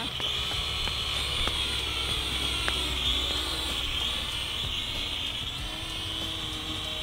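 An Udi U42W wifi camera quadcopter drone flies over an open field, its small rotors giving a steady high-pitched whine that wavers slightly, continuous and fairly loud throughout.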